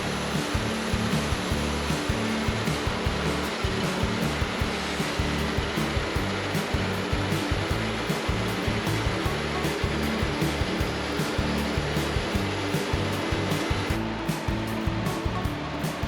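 A Wood-Mizer LT40 sawmill cutting through a huge 32-inch ponderosa pine log, a loud, steady roar of engine and band blade that holds constant throughout with rapid fine pulsing and no talk.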